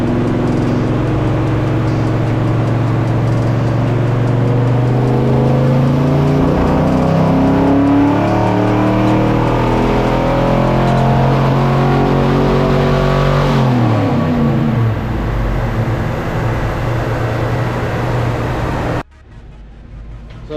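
A V8 fitted with budget cylinder heads, camshaft and intake roars through a sustained dyno pull, its pitch climbing steadily and turning rough and stuttering near the top before cutting off abruptly.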